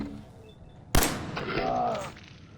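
A single sharp gunshot cracks out in the Fallout 4 video game, loud and close, followed by a brief ringing, whooshing tail.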